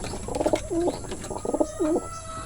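A Basra line pigeon hen coos close by in two clear rounds of throaty, rolling calls, each ending in a lower drawn-out note, over light background hum.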